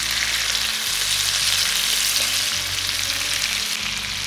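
Salmon fillet sears in a pan on the stovetop, giving a loud, continuous crackling sizzle that stays even throughout, with no voices.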